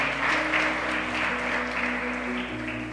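Church congregation applauding during a Portuguese-language service, a dense, steady wash of clapping filling the room while music holds in the background.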